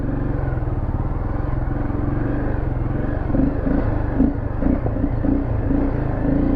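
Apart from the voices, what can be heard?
motorcycle engine running and revving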